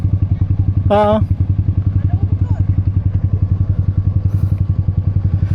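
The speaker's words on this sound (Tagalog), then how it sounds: "Ay, papasok din yung motor." A motorcycle rides into a rocky resort parking area with its engine putting out a steady close thumping rhythm, and a brief vocal sound is heard early on over the engine.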